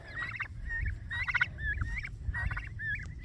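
Young turkeys chirping with high, quavering peeps in repeated bursts, several birds calling over a low rumbling background, fairly close and moderately loud.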